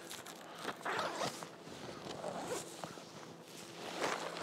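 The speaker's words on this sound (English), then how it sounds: "big ass zipper." A large zipper being opened on a WANDRD Hexad Access duffel backpack, a close, raspy run of short zipping bursts over about four seconds, fairly quiet and heard alone.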